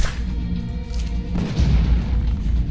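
An explosion in the video game Ark: Survival Evolved booms out as a deep, rumbling blast midway through, its low roar lingering over continuing background game noise.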